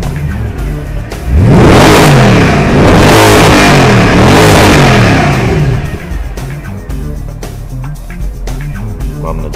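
Mercedes E-Class AMG engine in Sport Plus mode revs hard, a loud sustained climb and fall in pitch repeating over several seconds, then settling into a steady high idle drone.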